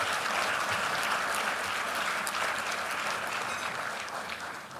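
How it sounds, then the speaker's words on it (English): Dense, sustained applause from a large audience at the opening session of a Manama Dialogue security conference, a steady wash of many hands that holds evenly and only begins to thin toward the end. "you should give them a round of applause."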